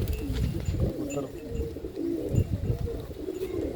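Pigeons coo at a loft in Pandharpur, including a purple-footed breed: low, throaty cooing phrases repeat close by over a steady background murmur, with no talking.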